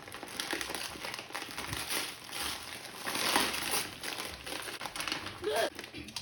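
Gift wrapping paper being torn open at a family Christmas gathering, a run of loud crinkling, ripping rustles close by, with people talking over it.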